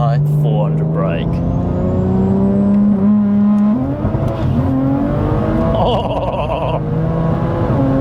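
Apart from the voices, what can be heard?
BMW M240i rolling launch with anti-lag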